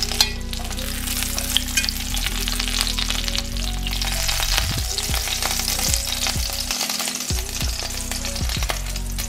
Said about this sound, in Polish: W ten sam sposób smażę resztę kotletów.